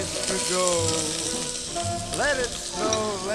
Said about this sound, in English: we have a little bit of olive oil and a little bit of butter. And we're going to saute some onions.